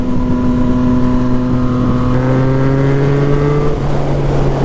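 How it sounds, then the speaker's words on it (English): A Yamaha FZ09 motorcycle's exhaust drones loudly and steadily from close by, its tone shifting as the engine revs change under riding, with wind rush throughout and no talk. "Love that exhaust note, though."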